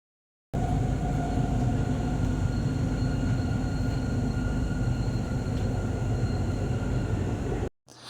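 A Riyadh Metro train in Saudi Arabia rumbling steadily in motion, a loud continuous roar with faint high whine, cutting off near the end.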